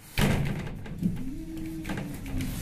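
Otis Series 1 hydraulic elevator doors at a Joann Fabric store in Novi, Michigan: a close thud as the doors start, then a steady mechanical hum and a sliding rumble as they travel.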